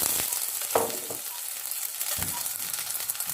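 Chicken pieces frying in hot oil in a pan, a steady close sizzle with sharp spattering pops and a louder crackle when the meat goes in, no talking over it.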